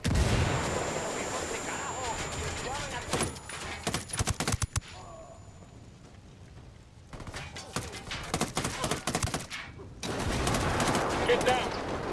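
Gunfire and an explosive frag grenade burst in the tactical shooter Ghost Recon Wildlands come as dense bursts of shots and blasts across the clip, with a quieter gap in the middle and heavy firing resuming near the end.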